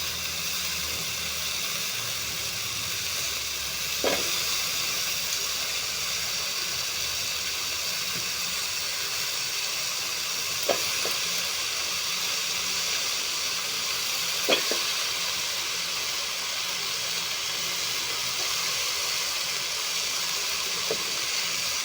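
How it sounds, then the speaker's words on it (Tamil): Brinjal sautéing with onion and tomato in a pan for pongal sambar, a long, even hissing sizzle that stays steady and moderately close, broken by a few faint isolated clicks, with no voices. "கத்திரிக்காய் போட்டு நல்லா வதங்கட்டும்"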